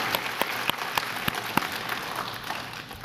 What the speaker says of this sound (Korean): 아버지들 격려 박수 한번 해주세요.